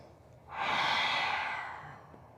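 One slow, deep inhale during a relaxation exercise, close and airy, rising smoothly and tapering off over about two seconds in a quiet room.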